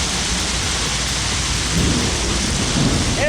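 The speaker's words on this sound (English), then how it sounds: "It's very loud. It is hailing." Heavy hail pounds down during a storm with thunder, a loud, dense, steady roar of impacts with deeper rumbling swells, and no talking.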